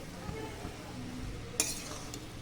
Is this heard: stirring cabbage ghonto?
yes